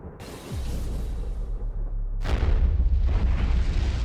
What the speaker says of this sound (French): C'est une nuke, mais voyons voir si elle tombe au moins.